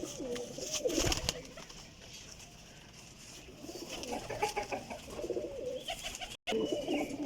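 Pigeons coo in repeated soft throaty calls, fairly close, with faint background noise and a brief dropout near the end.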